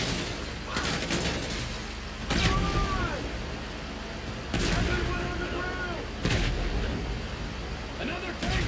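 Heavy cannon blasts from tanks in a GTA V heist mission, three loud booming shots roughly two seconds apart over a steady rumble of in-game battle noise and engine drone.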